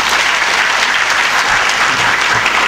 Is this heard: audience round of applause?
yes